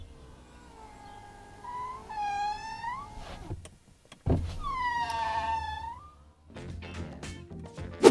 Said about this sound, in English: it makes this noise when you put the window up and down